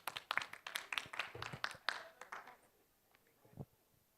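Faint, distant applause from a conference audience for the host at a diabetes precision medicine event, a quick burst of many claps that thins out and fades to a few scattered hands.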